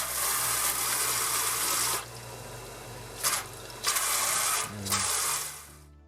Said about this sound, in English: Caravan style shower head.